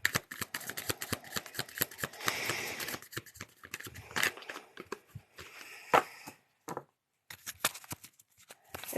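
Playing cards are shuffled and riffled close to the mic in rapid crackly bursts and flicks, with a few brief pauses. No voices are heard.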